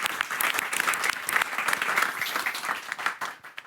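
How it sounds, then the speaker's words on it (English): Applause from an audience at a video-game design event, dense, steady clapping filling the room for several seconds before thinning out at the end. "Maybe we just give a round of applause for that."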